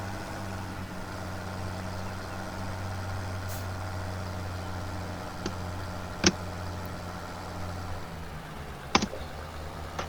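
A farm tractor's diesel engine idles steadily at close range, a constant low drone broken by a few sharp clicks and knocks.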